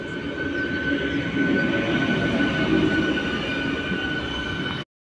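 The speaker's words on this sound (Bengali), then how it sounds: "ট্রেন আমাদের দুর্গাপুর থেকে ছেড়ে দিয়েছে" A MEMU electric multiple-unit train running between Durgapur and Asansol rumbles steadily from onboard, a continuous loud rolling noise with a faint high whine, no talk, cutting off abruptly near the end.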